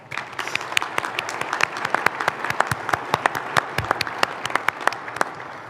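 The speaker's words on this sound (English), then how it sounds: "Let's give them a round of applause." An audience at a city's state-of-the-city address applauds, with individual sharp claps standing out over a lighter bed of clapping, a moderately sized crowd heard fairly close, steady and unbroken.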